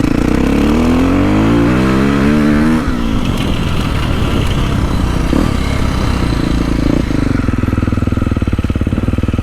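A 2024 Beta 450RX dirt bike engine revs and drones continuously at close range while riding, pitch climbing in the opening seconds, then settling into a rough, steady throb.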